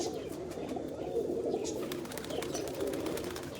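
A female pigeon coos in low, repeated murmurs close by, with soft rustling and no talk over it.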